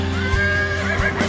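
Bucephalus, the horse, gives a short loud whinny over a dense musical backing, close and fairly steady for just over a second.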